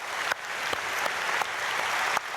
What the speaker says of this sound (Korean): 우리 홍콩에서 오신 성도님들 박수로 한번 축복해 주시고요